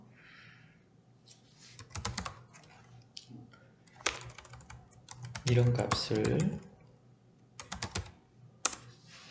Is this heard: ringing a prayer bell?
no